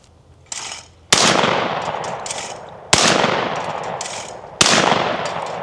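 A Franchi 48AL semi-automatic shotgun fires three loud, close shots about 1.7 seconds apart, each a sharp blast trailing into a long outdoor echo.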